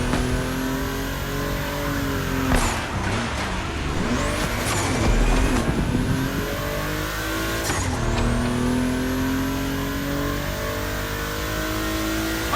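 Race cars in a video game, a Porsche 911 among them, roar past on a track with engines revving up and down, loud rising and falling whooshes as cars pass close, and brief tire squeals between the passes.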